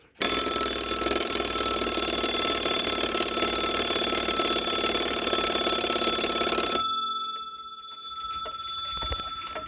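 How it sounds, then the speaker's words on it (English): The mechanical alarm bell of a Seth Thomas column clock rings loudly and continuously for several seconds, then stops abruptly, leaving faint rattling and quiet afterward. "This arm will fall into it and activate the alarm."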